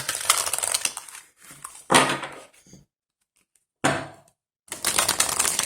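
Crisp bursts of riffling from a brand-new deck of oracle cards, several separate shuffles with short silent gaps between them, close and fairly loud.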